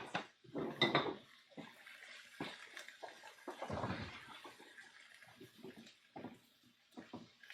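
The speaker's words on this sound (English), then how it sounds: "I'm stirring it." Food stirred in a pot while cooking at home, with irregular scraping, clinks and wet sloshing bursts, close and soft, with no voices.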